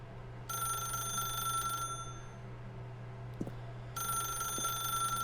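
A telephone rings in The Stanley Parable, two bursts of bright electronic-style bell ringing separated by a pause, with a quiet low hum running underneath and no voices.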